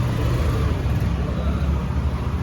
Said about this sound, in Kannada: ಗಾಡಿ ತೆಗಿತಿದ್ದಾರೆ. ಮೂವ್ ಮಾಡ್ತಿದ್ದಾರೆ